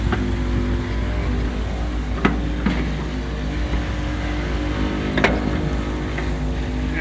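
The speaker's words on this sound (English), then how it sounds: "And we are pumping some fuel." Diesel fuel truck idling with its PTO pump engaged, moving fuel back into the same compartment it draws from; a steady low mechanical drone with a few faint clanks over it.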